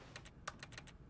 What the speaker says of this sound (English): I love that little sound, that in-game clicking sound when you